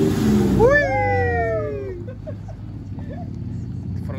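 A turbocharged off-road truck at an off-road event spools up with a rising, whistling whine that peaks and fades within about a second and a half, over a steady rumble of idling engines and crowd noise.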